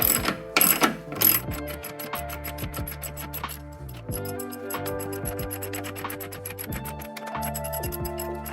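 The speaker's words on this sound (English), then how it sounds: "we torque up the top nuts" A ratchet tightening the 14 mm top nuts on a front strut during a KYB Strut Plus replacement, rapid close clicking in repeated strokes with brief pauses between, no talk.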